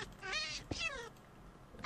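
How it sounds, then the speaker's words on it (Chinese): A cat meowing in the game Minecraft during a hide-and-seek round: two drawn-out, wavering meows in quick succession, fairly loud and close, then a quiet stretch. "我听到那个喵喵叫的声音了"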